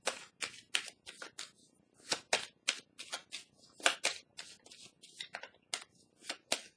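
Tarot cards are shuffled and slap down onto a surface in a quick, irregular series of close, crisp flicks and soft thuds, heard alone.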